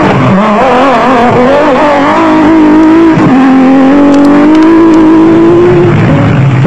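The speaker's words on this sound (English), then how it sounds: "On board with veterans Hannes Fredler and Richard Leek, who were third quickest despite breaking two front drive shots on the Nissan Hardbody Supertrack" On-board engine roar of a Nissan Hardbody off-road race truck with broken front drive shafts at the Caledon off-road race in South Africa, loud and continuous, its pitch rising and falling as it revs and shifts.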